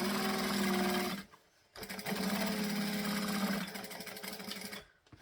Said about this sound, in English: So stitch and back stitch.